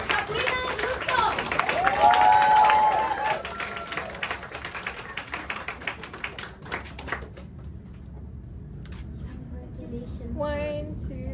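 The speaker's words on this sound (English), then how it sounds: "Round of applause for Sabrina Yusuf." Applause from the audience at a poetry slam awards ceremony greets a second place winner, loud dense clapping that builds early and then thins into scattered claps before fading, with a brief voice near the end.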